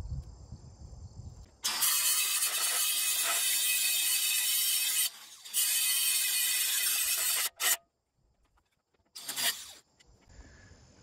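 A steel mounting bracket is ground off a hydraulic log splitter: a loud, steady grinding roar runs for several seconds with a brief pause, followed by a few sharp hammer blows against the metal, with no talk.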